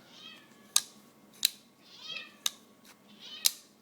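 An old cat, about ten years old, meows several times in short calls spaced roughly a second apart, close and clear over a quiet room with faint background hum.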